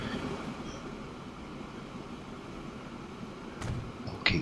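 Trains rolling on rails in the Transport Fever railway game, a steady low rumble of wheels running throughout, with a brief squeal near the end and a sharper metallic accent at the close; no voices.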